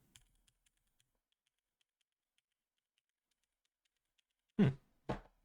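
Two sharp clacks of keys on a custom mechanical keyboard, close and fairly loud, after a long stretch of near silence.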